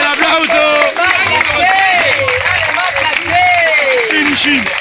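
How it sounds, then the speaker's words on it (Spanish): Crowd applause and cheering at a freestyle rap battle quarterfinal, a steady wash of clapping running throughout beneath a loud, sustained shouting voice. "¡Fuerte el aplauso!"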